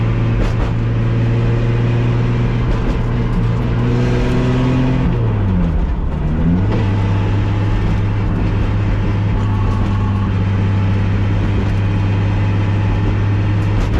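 Race car at speed on a lap of Willow Springs raceway, engine droning steadily loud and close throughout, pitch dipping and rising through a downshift and back onto the throttle midway.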